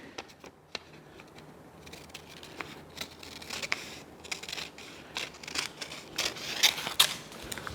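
Scissors snip through paper while cutting out a christening dress pattern, a run of crisp close snips with light paper rustling and crinkling, growing busier toward the end.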